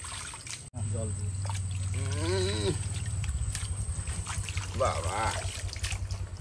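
Water pouring into a fish pond or tank, a steady rushing flow under several people talking and calling out.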